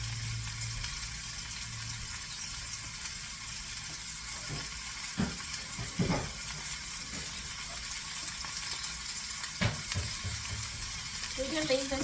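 Za'atar-rubbed butterflied chicken sizzling in a pan over medium-high heat, a steady, dense frying hiss with a few soft clatters and brief scrapes.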